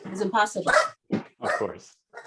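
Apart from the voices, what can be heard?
Shih Tzu dog barking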